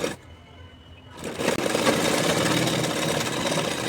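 An electric sewing machine stitches a second reinforcing seam along the shoulder of a kurti, starting with a short quiet whirr, then running as a loud, steady, continuous rattling hum close by.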